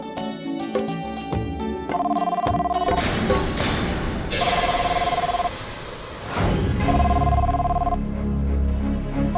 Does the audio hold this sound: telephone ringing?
yes